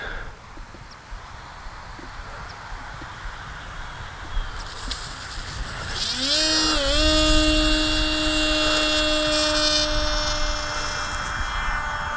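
A Skynetic Dragonfly RC plane flies overhead: after a quiet outdoor stretch, a thin, high electric-motor whine swells about halfway through, dips slightly in pitch, then holds steady and fairly loud to the end.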